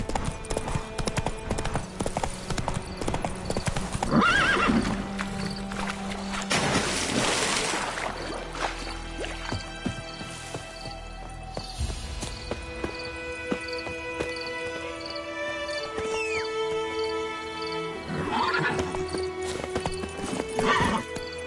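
Roach, the horse in The Witcher 3 on PS5, gallops with rapid rhythmic clip-clop hoofbeats and a whinny. Game music plays underneath and a voice speaks briefly.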